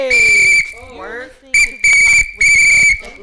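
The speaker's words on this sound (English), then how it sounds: "Blow the whistle. Blow the whistle. Blow the whistle." Loud, shrill whistle blasts, a long one followed by several sharp bursts, with brief vocal sounds in between.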